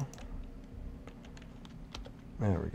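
Quick, light key clicks on a Windows keyboard connected to a Mac, tapping in an irregular rhythm, close and fairly quiet, followed by a brief bit of speech at the end.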